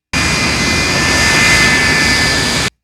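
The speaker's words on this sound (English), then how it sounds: "The aircraft has come to a complete stop." A jet airliner engine in the film Catch Me If You Can roars as a steady, loud, continuous broadband rush with a faint high whine running throughout.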